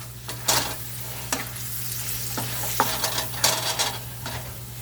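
Steady sizzling of Szechuan beef simmering in a hot pan with occasional sharp clicks and scrapes of a utensil stirring, close up, under a low constant hum.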